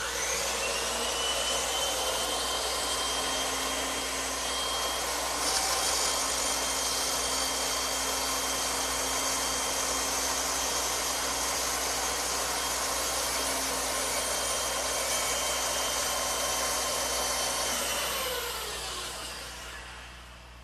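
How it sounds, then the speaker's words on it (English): A bandsaw runs with a steady, loud, high-pitched whine while cutting the curved wooden side pieces of a rocking horse, holding an even tone for most of the stretch before winding down at the end. "ideally, it's nice to have a bandsaw like this one."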